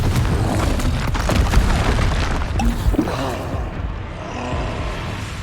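A fire spell bursting in the Hogwarts Legacy game, heard as loud booming blasts with crashing debris and a rumbling tail that fades to quieter ambience.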